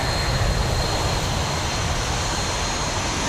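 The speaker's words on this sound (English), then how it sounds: "The engine sound is too loud, and it's surround, as you can see." Boeing 737 engines in the X-Plane 11 flight simulator produce a loud, steady jet roar with a broad rumbling low end and a faint high whine, unbroken throughout with no talk.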